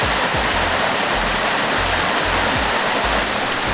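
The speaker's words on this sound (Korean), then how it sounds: "비가 내린 산사의 계곡에 물이 칼칼칼 흘러내려갑니다." A mountain valley stream swollen after rain rushes past a temple in Anseong, a dense, steady roar of churning water heard close and loud throughout with no pauses or voices.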